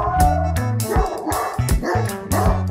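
A dog barks repeatedly in short, loud, close bursts, mixed with a few yips, over background music.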